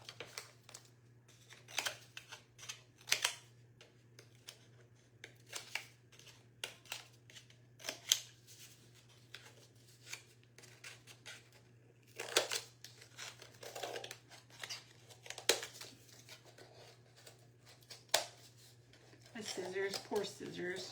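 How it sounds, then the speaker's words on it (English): Scissors cut through tough cardstock in repeated short snips and crunching strokes, close and crisp, scattered irregularly across a quiet room with a low steady hum underneath. "Scissors, poor scissors."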